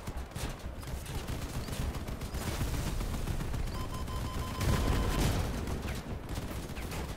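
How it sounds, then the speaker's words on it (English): Rapid volleys of rocket fire from a hurricane launcher in the vehicle combat game Crossout, a dense continuous barrage with a louder burst near the end, with no talk. "Oh yeah, it's a hurricane launcher."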